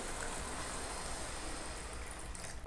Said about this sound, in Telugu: ఇప్పుడు నేను ఈ గిన్నెతోటి ఇంత గిన్నె వాటర్ పోస్తున్నానండి.